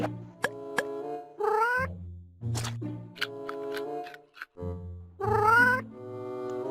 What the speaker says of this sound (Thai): อ้าวว่าไงเจ้าเหมียวนายก็หิวกับเขาเหมือนกันเหรอ